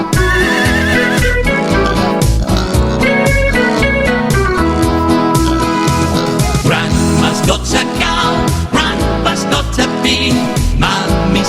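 A horse neighs within a loud, continuous children's farm-animal song, the whinny blended into dense music and vocals.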